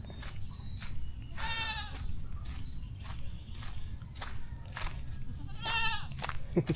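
Goats bleat several times among mango trees in Tarlac, with short wavering cries over a steady outdoor rumble of wind and movement, fairly close but not loud.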